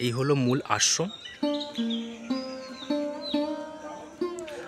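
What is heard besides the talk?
birds chirping at ashram grounds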